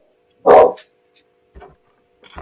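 A dog gives one loud, close bark, followed by a couple of faint, short yips.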